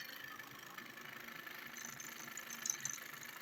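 A small steam engine motor runs at a steady idle in a man cave, a faint even chugging hum with a brief brighter hiss near the end.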